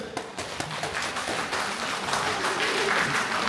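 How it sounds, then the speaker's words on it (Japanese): Concert hall audience in Chiba claps on request at a live music debut event, a thick burst of applause swelling loudly and continuing through the whole stretch. "千葉県外から来たっていう人、"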